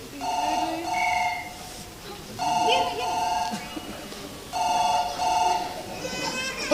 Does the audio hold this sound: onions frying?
no